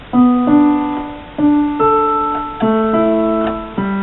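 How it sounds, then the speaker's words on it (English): A piano plays the left-hand accompaniment to a song, sustained two-note chords struck about every half second to second in a steady repeating pattern, clear and close with no voices. "now we're going to learn the left hand part that accompanies both the introduction and the verse"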